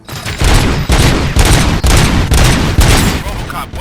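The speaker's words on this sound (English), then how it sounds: "Gunshots? What's going on?" Sustained gunfire bursts in the video game Robocop Rogue City, loud and dense with rapid repeated volleys and heavy booms close up, no speech.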